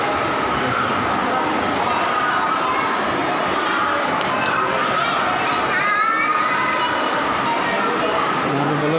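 A dense crowd fills the hospital OPD registration area with constant overlapping chatter, shouts and murmuring voices.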